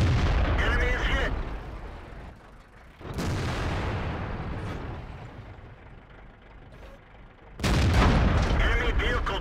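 Tank gunfire from the Black Prince in World of Tanks, with sharp loud cannon blasts at the start, around three seconds and near the end, each trailing into mechanical rumble and clatter between shots.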